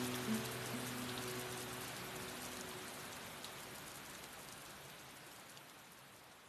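Heavy rain pours down in a steady, dense hiss. It is constant and fairly soft, with a faint tonal hum fading out early on.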